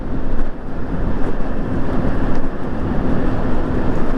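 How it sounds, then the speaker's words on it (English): Strong wind roars steadily across the microphone throughout a rainy, muddy ride on a TNT e-bike, a loud continuous buffeting rush with no pauses. "Oh, she's windy today."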